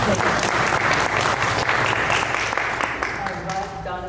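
An audience at a women-in-blockchain event applauds, a steady wash of clapping that carries on throughout and thins slightly toward the end.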